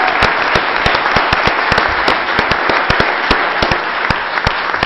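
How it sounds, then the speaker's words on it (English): Loud, dense applause fills a city council meeting chamber, steady clapping from a sizeable crowd sustained throughout with sharp individual claps standing out. "They deserve a round of applause."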